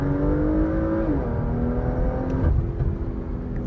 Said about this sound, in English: The exhaust is impressive.